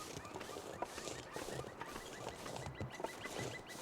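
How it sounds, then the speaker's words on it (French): Birds calling at daybreak in the wilderness survival game The Long Dark, a dense, steady chorus of chirps and fowl-like calls layered over constant ambient noise throughout. "Est-ce que les oiseaux qu'on entend, c'est vraiment des oiseaux qu'il y a in-game ou c'est juste du sound design?"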